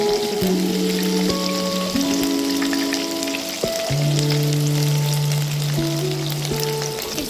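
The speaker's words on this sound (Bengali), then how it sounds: "এই তেলের মধ্যে এবার আমি প্রথমে রসুন কিমা কিছুটা দিয়ে দিচ্ছি এবার আমি এর মধ্যে পেঁয়াজ দিয়ে দেবো" Minced garlic and onion fry in hot oil with a loud, steady sizzle and crackle close up, while sustained musical tones play underneath throughout.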